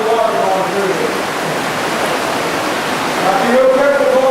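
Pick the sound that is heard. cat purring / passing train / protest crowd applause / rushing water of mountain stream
rushing water of mountain stream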